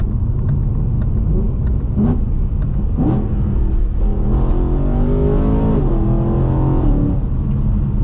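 BMW E92 M3 engine droning loudly from inside the cabin while driving, with a steady low rumble that rises into a revving, accelerating pull with whirring mechanical tones.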